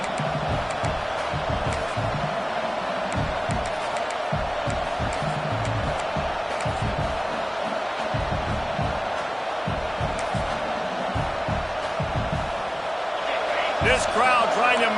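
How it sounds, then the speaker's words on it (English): A Tennessee football stadium crowd roars in a steady wash, with thuds and sharp bursts scattered through it and a rise near the end; commentary runs over the top. "This crowd trying to make life miserable for this offense."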